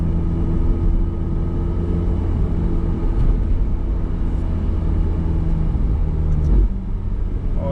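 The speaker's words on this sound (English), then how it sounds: "Oh, I love that downshift." A Ferrari F8 Spider's engine and exhaust give a steady, deep rumble heard from inside the car while driving, with a brief shift in tone near the end and no voices.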